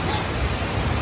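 Kaeng Yui waterfall in Laos gives a dense, steady roar of falling water, close and loud throughout a brief moment with no other sound standing out.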